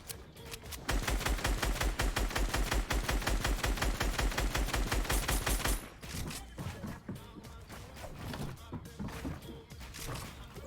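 Rapid bursts of gunfire in a battle royale shooter, including sniper shots, form a dense, loud, rhythmic volley for about five seconds, then give way to scattered lighter shots and game effects as players talk over the action.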